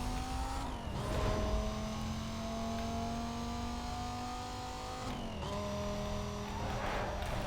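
An Audi TT races in the video game Need for Speed Most Wanted (2005), its engine revving loudly through rising gear-change whines with sharp shift drops around one and five seconds, amid continuous road and tire noise.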